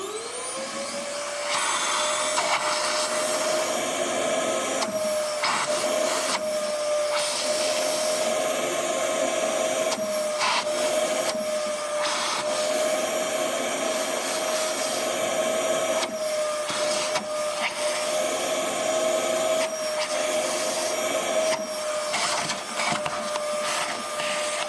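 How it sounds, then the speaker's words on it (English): Vacuum cleaner sucking debris from the spark plug wells of a 2008 Saab 9-3 2.0t BioPower engine, a loud steady whine with a high motor tone, the pitch shifting briefly as the nozzle moves and gets blocked. "But to make sure nothing leaks into the engine, like dust or stuff, I take the vacuum cleaner"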